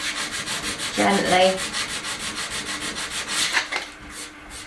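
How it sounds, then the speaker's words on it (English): Sandpaper rubs down wood filler on reclaimed timber for a bespoke handmade kitchen, a close rhythmic back-and-forth scrape with steady strokes throughout, and a brief spoken word near the start. "So I got my wood filler, my sandpaper, I'm just going to rub it down"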